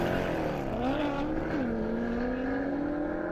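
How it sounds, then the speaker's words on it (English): A Jeep Trackhawk launches hard down an airport airstrip in a half-mile drag race, its engine holding a loud, sustained roar that climbs steadily in pitch with a brief dip as it shifts, heard alone without voices. "Watch this Trackhawk launch and go."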